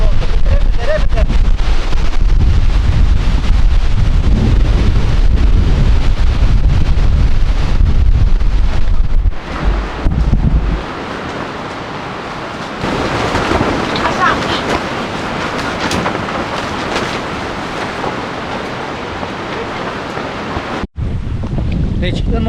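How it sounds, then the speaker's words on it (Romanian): Heavy storm wind roars across the microphone on Lake Ceta during a carp fishing session, with the rumbling gusts dropping briefly before returning, broken water noise beneath, and voices speaking at times. "a venit o furtună și un vânt"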